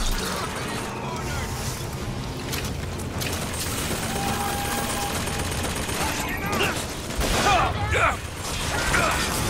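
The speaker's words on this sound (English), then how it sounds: "Who the fuck is shooting me?" Enemy gunfire directed at the player in the video game Bioshock Infinite, rapid mechanical shots and clattering under busy game noise, with a player speaking over it.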